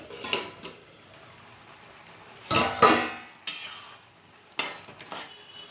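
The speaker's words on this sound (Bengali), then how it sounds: "ঢাকনাটা তুলে" A metal lid is lifted off a pot of bottle gourd simmering with jujube for a sour dish, a few sharp clanks and scrapes standing out over a soft bubbling background, with no talking.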